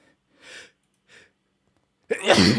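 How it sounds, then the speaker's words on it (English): A single loud human sneeze, close to the listener, preceded by two short, faint breathy inhales during the wind-up before the sharp explosive burst at the end. "I have to sneeze."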